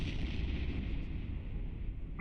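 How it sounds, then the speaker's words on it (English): A large ship explosion in the space game EVE Online after a mission ends, heard as a steady, deep, loud rumble that rolls on without a break. "so we're going to watch the explosion here"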